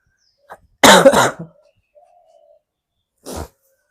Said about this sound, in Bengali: কাশিটা কমছেই না, 10-12 দিন ধরে কাশি